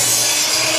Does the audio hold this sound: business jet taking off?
no